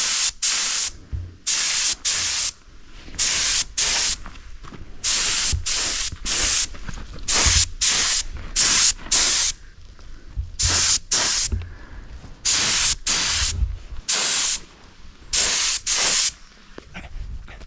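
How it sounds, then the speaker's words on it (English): A spray gun dry flaking SpeedoKote 2K clear coat outdoors, in repeated short bursts of loud hiss separated by brief pauses, each lasting around a second, close by. "I'm going to go ahead and dry flake that as well to try to get more even coverage"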